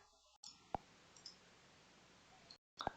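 A computer mouse gives a few faint, isolated clicks during a software demo, sharp single taps spaced apart over a quiet background.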